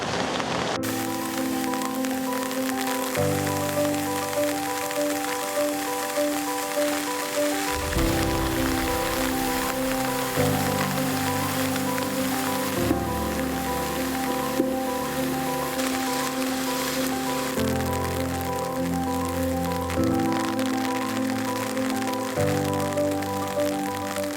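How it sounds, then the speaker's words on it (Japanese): Steady rain pattering on surfaces alongside fast-flowing water on Tsushima island in Nagasaki, a constant close hiss that runs throughout under background music. "しかも雨だからちょっと水の流れも速くて"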